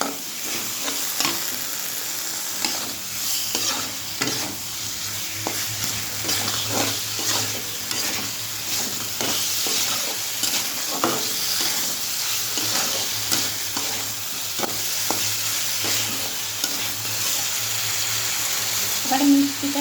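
Green peas stir-fried in a pan, a steady sizzle running under repeated scraping and stirring clatter for about twenty seconds, with faint traces of a voice in the background.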